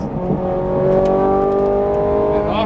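A Ferrari 430 Scuderia's engine rises on a race track, a loud close tonal drone building steadily, then easing off near the end.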